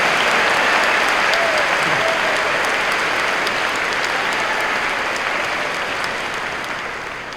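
Sustained, loud applause from a convocation audience fills the room in a dense, steady wash of clapping that slowly fades toward the end, with no talk over it.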